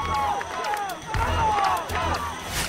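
A TV game-show crowd cheers and shouts encouragement to a contestant on an obstacle course, a loud, continuous roar of voices with whoops rising and falling, some surging near the end.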